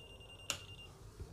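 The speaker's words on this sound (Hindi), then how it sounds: "देखिए यहाँ पर बजर का साउंड भी आ रहा है" A digital clamp meter's buzzer sounds once as its supply is switched on, a short sharp electronic beep with a thin steady tone trailing after it, faint and close in a quiet room.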